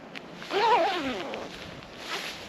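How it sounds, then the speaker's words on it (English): A zip on a reproduction battledress blouse is pulled up outdoors in wind in the Brecon Beacons. It makes a single rasping zipping stroke lasting about a second, heard close against steady wind noise. "Do the zip up"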